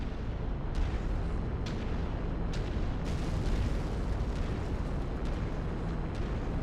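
Missile blast in a mech combat game, a dense, steady roar of explosive rumble with several sharp bursts spread through it and no voices.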